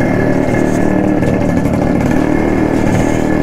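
A Yamaha RX100 motorcycle engine runs steadily nearby, its continuous two-stroke drone holding an even, loud level throughout with no talk over it.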